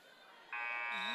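A loud, steady electronic buzzer blares to end the first period of a varsity high school wrestling match, cutting in sharply over gym crowd noise and continuing to the end.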